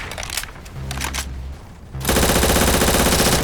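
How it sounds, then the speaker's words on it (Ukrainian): Rapid automatic gunfire in Roblox, scattered shots at first, then a sudden sustained loud burst of continuous firing. "Це хто стріляє?"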